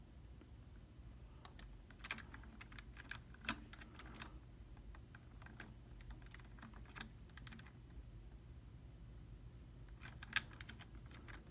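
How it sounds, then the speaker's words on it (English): Faint, close typing on a computer keyboard during a Roblox game session, with irregular bursts of light key clicks and short pauses over a low steady background hum. "How do I type in this game?"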